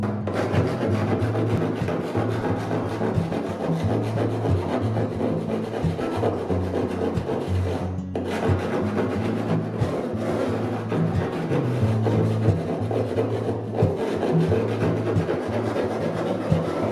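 Steady, continuous rubbing of sandpaper on wood while smoothing the underside of a wooden kayak's coaming, an even rasping scrape at moderate loudness that carries on without pause for the whole stretch, with no talking.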